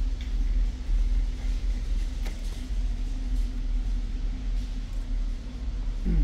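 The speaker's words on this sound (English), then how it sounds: "If I could hear your bass, like, literally that car's base, I could hear all the way in here." Thumping car stereo bass from a vehicle outside, heard from inside a Costco warehouse store: a deep, steady low rumble with a sustained hum throughout, fairly loud, with no talking.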